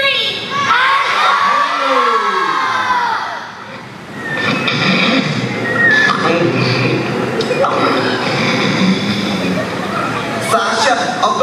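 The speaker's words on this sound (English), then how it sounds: "on the count of three, yell Antonio as loud as you can" A young audience at an environmental-council puppet show yells a character's name in unison, a loud, sustained group shout that dips briefly, then swells again into excited cheering and noisy chatter.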